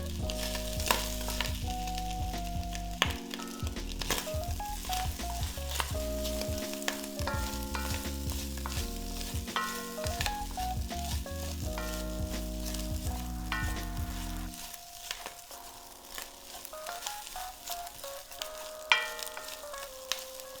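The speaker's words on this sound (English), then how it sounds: "we got our meat in here, frying up, getting nice and crispy, starting to break up into those shreds" Chicharrón prensado meat fries in a pan, turning crispy and breaking into shreds, with a steady sizzle and occasional stirring scrapes under prominent background music.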